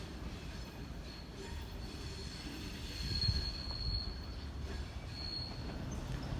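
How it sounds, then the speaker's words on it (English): A Sydney Trains train passes through Erskineville station, its wheels squealing in high, sustained tones over a low rolling rumble at moderate distance. "next train through platform 3 will not stop"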